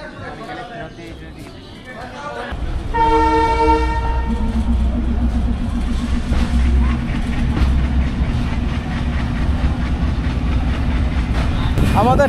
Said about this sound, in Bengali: আমাদের ট্রেন এখন চমৎকার একটি বাঁক নিবে, বাঁক নিয়ে তীব্র গতিতে ছুটে চলবে পঞ্চগড়ের দিকে।